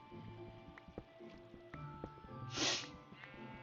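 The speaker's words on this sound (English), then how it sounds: "Oh, there's the sniff again." A single short sniff or snuffle stands out in the middle of a quiet Minecraft play session, set against soft clicks and faint in-game ambience.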